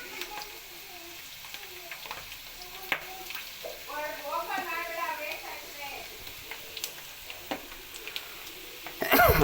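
Pirandai (adamant creeper) sizzles steadily as it fries in a pan, with faint stirring clicks and scrapes throughout and a brief clatter at the end.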